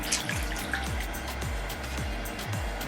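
Wet curly hair is dunked and squeezed in water, giving a few soft sloshes and splashes with trickling drips, close and quiet, with no talking.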